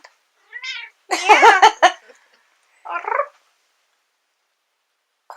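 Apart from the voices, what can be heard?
cat meowing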